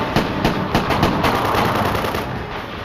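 Bursts of machine-gun fire ring out as rapid, sharp, closely spaced cracks, loud and near, with no voices.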